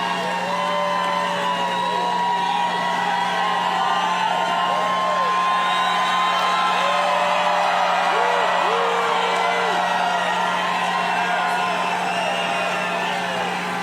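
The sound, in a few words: rally crowd cheering and whooping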